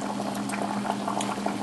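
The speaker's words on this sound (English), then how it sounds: "The beans have been cooking for about 4 minutes." Beans boiling in a pot of water on the stove, a steady dense bubbling and rolling simmer, close and continuous with no talking.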